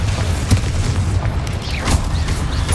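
A Bombarda blasting spell explodes in the Hogwarts Legacy video game as a deep, steady booming rumble with a couple of sharper bursts, loud and continuous throughout.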